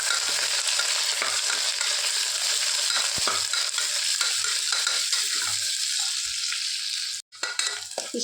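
Onion and curry leaves fry in a pan, giving a loud, steady sizzle throughout with a few soft stirring clicks and one brief dip near the end.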